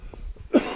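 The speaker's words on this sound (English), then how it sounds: "I got to take time out to cough." A single sharp cough, close and brief, after a moment of soft background noise.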